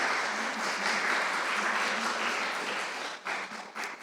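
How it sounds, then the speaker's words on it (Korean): Church congregation clapping to welcome new visitors at a Sunday worship service, a dense, steady applause from the room that tapers off with a few scattered final claps. "우리 박수로 환영하겠습니다"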